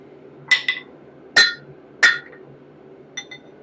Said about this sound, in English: Dropping our hammer there too.